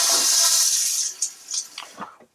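An RV foot-flush toilet gives a full flush: a loud, close rush of water for over a second, then gurgling and sloshing that trail off as the bowl drains.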